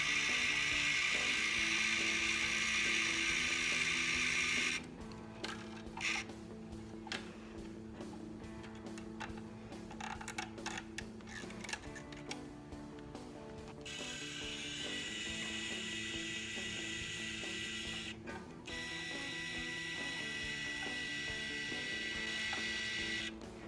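A power winder turns guitar tuning pegs to loosen the strings, giving a steady whirring motor hum with rapid ratcheting clicks in the middle, moderately close and alone.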